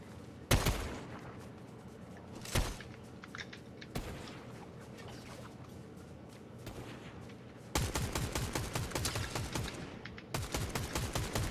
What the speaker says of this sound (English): I knew the shooting would show itself.